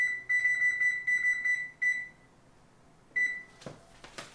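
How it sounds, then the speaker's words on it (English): Kitchen timer beeps in a steady repeated pattern of short electronic tones while being set for ten minutes, followed by a few soft clicks and handling knocks in a quiet kitchen while baking egg white bread. "I'm going to turn my timer on 10 minutes"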